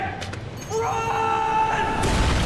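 A grenade explosion in a TV series, a heavy, loud boom that swells into a broad roar near the end, following a shout and sustained tones.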